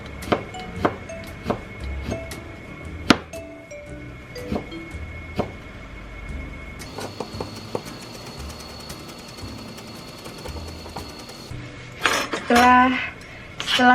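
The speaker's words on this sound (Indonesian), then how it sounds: "Setelah dikupas, kita cincang." A knife chopping peeled ingredients for niku dango on a board, sharp irregular taps spaced through the clip, with some clattering of dishes and a faint background tone.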